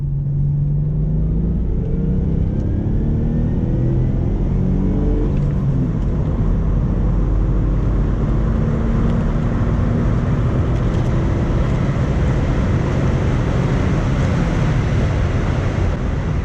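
A neglected Mitsubishi VR4 accelerates hard from about 30 toward 100, its engine note rising steadily through the gears as a loud, continuous roar close to the microphone, with heavy road and wind rumble underneath and no talking.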